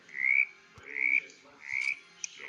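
Frogs croak in a Roblox forest survival game, three drawn-out, raspy calls with short gaps between them, fairly close and clear, with a faint click near the end.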